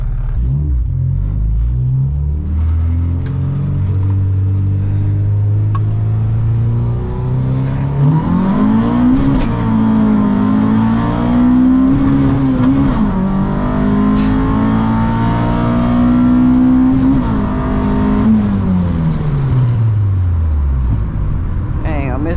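A turbocharged Honda Civic EK hatchback, its transmission acting up, pulls hard from close inside the car: the engine note climbs loudly, drops briefly at a gear change, climbs again and then falls away at the end.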